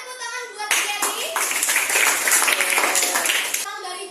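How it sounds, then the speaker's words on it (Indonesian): A class of schoolchildren claps together for a classmate, a lively burst of hand claps lasting about three seconds, with a voice and an adult speaking around it. "tepuk tangan buat Gary"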